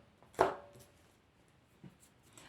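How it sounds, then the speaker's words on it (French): A deck of oracle cards is cut with a single crisp shuffle-and-tap near the half-second mark, followed by a faint softer card sound later, alone in a quiet room. "Je vais faire la coupe, tiens."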